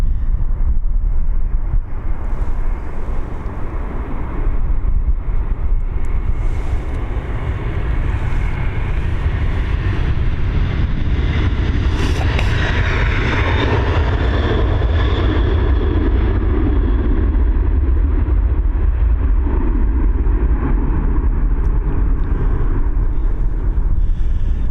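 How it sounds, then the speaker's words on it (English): An Airbus A330 jet takes off from Dublin Airport, bound for Miami, its broad distant roar swelling and slowly fading behind heavy, buffeting wind noise on the microphone, with no talking. "Let's just get this A330's departure. Here she goes, she's heading over to Miami."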